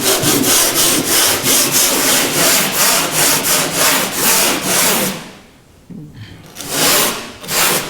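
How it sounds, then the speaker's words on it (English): Sandpaper scuffs fiberglass on a wooden Whitehall Wherry boat in rapid, loud, rhythmic back-and-forth strokes, close by, with a brief pause near the end before a few more strokes. "I'm going to grab myself a little bit of sandpaper. And lightly scuff."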